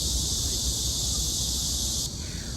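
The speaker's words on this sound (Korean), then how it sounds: "매미 소리가 너무 나는데?" Cicadas buzz in a dense, steady, loud drone outdoors in Yeouido, Seoul, on a summer day, then the chorus drops away abruptly near the end, leaving quieter background.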